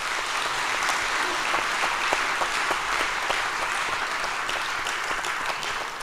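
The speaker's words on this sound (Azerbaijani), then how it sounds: "Bir alqışlayaq." An audience at a music event applauds in honour of an Azerbaijani musician, sustained dense clapping that stays steady throughout and fades slightly at the end.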